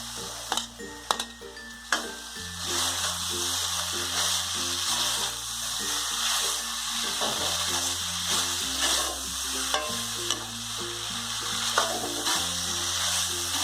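Okra and onions tipped into sizzling masala in a pan for bhindi do pyaza: continuous loud frying hiss with stirring scrapes and spatula clatter, close up, over soft background music.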